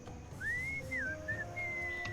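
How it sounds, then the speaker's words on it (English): A melodic whistled tune in the video game Sam & Max Beyond Time and Space, a clear, wavering whistle rising and gliding through a few short phrases over a soft background hum. "What is that enchanting whistling sound?"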